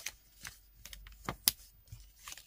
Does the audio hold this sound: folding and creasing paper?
yes